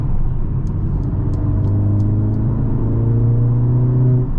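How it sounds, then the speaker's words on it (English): A 2023 Mercedes-AMG GLA 45 accelerates hard with its exhaust open, a loud steady engine drone climbing in pitch as the turbo spools, with a few faint clicks near the start. "You can really hear that turbo spooling."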